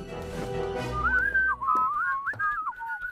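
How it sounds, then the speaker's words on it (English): A melodic cartoon whistled tune, close and clear, wandering up and down in pitch for a few seconds without any talking. "Inconspicuous whistling. Just a casual whistle."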